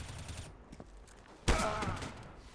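A single sharp sniper rifle shot in CS:GO cracks out loudly midway, following quieter game noise and faint clicks, and leaves a ringing tail.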